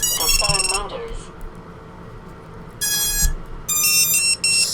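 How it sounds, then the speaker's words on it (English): Buzzer on an Armattan HellgateFPV drone sounds shrill electronic beep tones and short melodic chirps as a battery is plugged in, loud and close, in two main bursts with a pause between. "you can hear that it makes all the sounds that a normal buzzer does"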